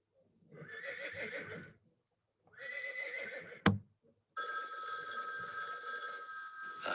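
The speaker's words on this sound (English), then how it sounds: "Horse." Horse whinnies in three separate bursts, loud and close, the last one long and sustained; a sharp click sits in the gap before it.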